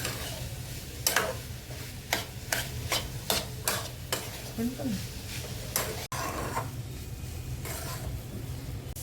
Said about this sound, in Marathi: आपले मसाले सर्व भाजींना लागले पाहिजेत असं मिक्स करून घ्यायचं